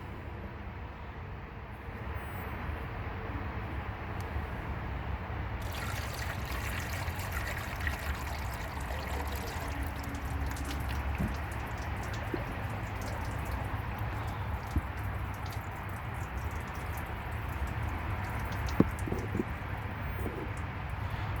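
Antifreeze trickles and drips from a leaking engine head, a soft continuous dribble with occasional drips over a low steady background rumble, no talking.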